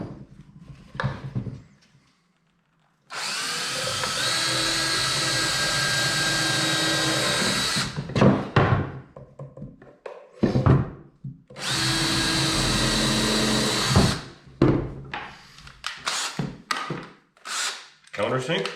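A power drill drives screws into wood blocks fitted inside a lighthouse model build, with two long loud whirring bursts, the second cutting out abruptly, between shorter clunks, handling knocks and some speech.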